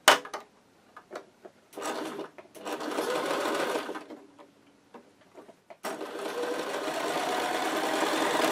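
Household sewing machine stitching in short bursts, then longer steady runs of fast mechanical whirring and clatter, close and moderately loud with brief pauses between runs.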